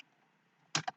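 A few quick keystrokes on a computer keyboard while entering a line of Python code, a short cluster of clicks near the end after a quiet stretch.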